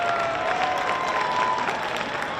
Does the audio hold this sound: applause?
yes